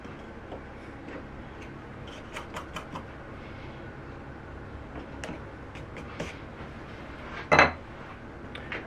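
A chisel cutting a knife wall for a hand-cut dovetail produces light, scattered ticks and taps on wood, with one louder sharp metallic knock near the end, close and otherwise quiet.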